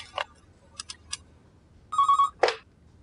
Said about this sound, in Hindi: आप उन्हें फोन कीजिए और कहिए कि तैमूर आया